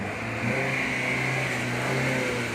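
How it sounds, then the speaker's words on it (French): A Mercedes E200 engine drones steadily at a fairly high pitch, held revs humming loud and close with no pauses. "on entend vraiment le bruit du moteur qui est ça."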